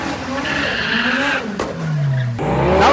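A BMW M5 and a Porsche Cayman launch side by side at a Sunday morning car meet in Thailand, with loud engine roar, rising revs and tyre squeal, close by and continuous, ending in a sharp acceleration burst.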